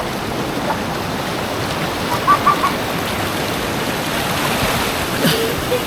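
Fast river water rushing over smooth, flat rocks at a jungle campsite in Ulu Kongsor, a steady broadband wash close by with a few brief clicks and no speech.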